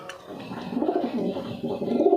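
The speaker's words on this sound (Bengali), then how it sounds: "এই দেখো পায়রাগুলো ভালো করে দেখে নাও" Madras and Giribaz pigeons coo in low, soft, rolling bursts, a few overlapping calls close by with no talking.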